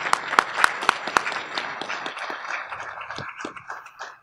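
An audience at a cannabis industry policy event applauds the producers and speakers, beginning with a few sharp, distinct claps that quickly merge into a dense, moderately loud round of clapping that tapers off.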